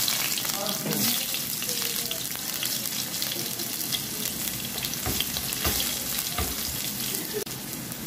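Garlic frying in a pan as the start of squid adobo, a steady loud sizzle with crackles and stirring throughout, a voice faintly present underneath.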